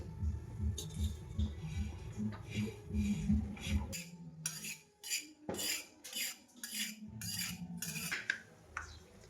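Barnyard millet (bhagar) roasts on a tawa while a spoon stirs it, making close metallic scraping and clinking in irregular bursts, with gaps between strokes.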